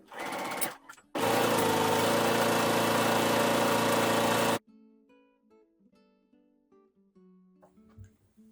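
Sewing machine stitching down pleat ends and shoulder seams on a Burda 6516 jumpsuit, a brief burst then a loud steady run of about three seconds, followed by quiet handling sounds.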